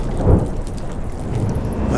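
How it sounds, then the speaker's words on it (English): Storm at sea on a boat in The Witcher 3 game, with heavy rain and wind rushing steadily and a low rumble of thunder swelling early, loud and close. "Didn't bargain for no storm."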